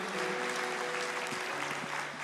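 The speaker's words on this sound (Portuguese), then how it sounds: "Vocês podem aplaudir ao Senhor por essas vidas." Church congregation applauding during a worship service, a dense, steady wash of many hands clapping that fills the space evenly with a faint tonal hum beneath, no voices rising above it.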